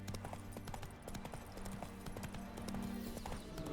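Hooves of the horse Roach clip-clop in a steady walking rhythm in the video game Witcher 3, close and fairly quiet, with a faint whinny-like tone beneath.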